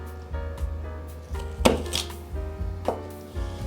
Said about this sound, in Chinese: 切成4等份